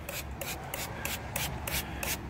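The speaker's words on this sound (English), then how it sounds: "spraying it down with a mist of water" Seven quick, hissing bursts of a spray bottle misting water onto homemade green sand for metal casting molds, evenly spaced and close, fairly quiet.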